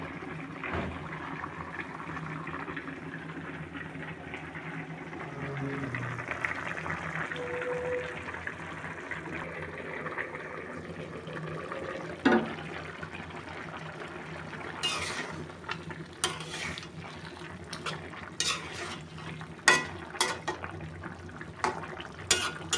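A cooking pot of hot water at a boil with small fish, cauliflower and tomato nearby, a steady low bubbling simmer under clinks of pots and utensils, with sharper knocks and clatter growing toward the end.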